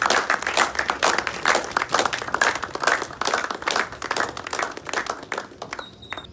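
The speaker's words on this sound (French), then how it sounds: "Je vais vous demander de l'applaudir encore une fois de plus" An audience applauds loudly, a sustained rush of many hands clapping in uneven waves that fades toward the end.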